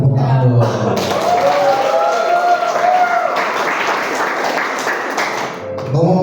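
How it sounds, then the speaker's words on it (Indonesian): Applause from a youth audience at a parish session, a dense wash of clapping that fills the room for several seconds, with voices mingling over and around it. "Sudah tepuk tangan dong."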